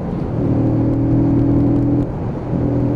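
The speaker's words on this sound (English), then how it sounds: "And then bringing it up to speed." A Keeway K-Lite 125cc motorcycle accelerating on the road, its small engine droning loudly and close, holding a steady rising note before briefly dropping off as it shifts and then picking up again.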